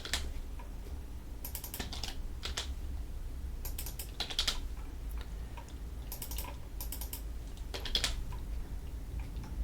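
Quiet bursts of computer keyboard typing, clusters of soft key clicks separated by short pauses over faint background hum.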